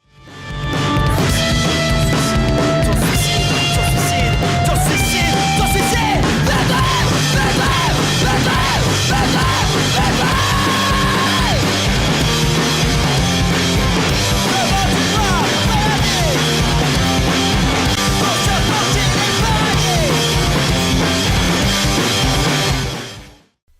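Loud, dense punk rock song with distorted guitars, pounding drums and shouted vocals, playing continuously at full volume from start to finish.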